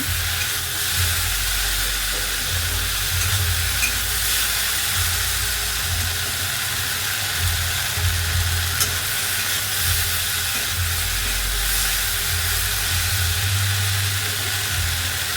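Okra frying in a pan with a steady, loud sizzling hiss that runs throughout, with low stirring rumbles and scrapes underneath.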